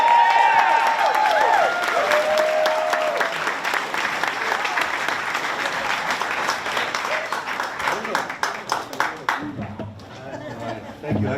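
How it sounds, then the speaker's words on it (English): A crowd applauds to welcome a congressman to the podium, loud clapping mixed with chatter and a few cheers, thinning out near the end as the room quiets. "Another round of applause"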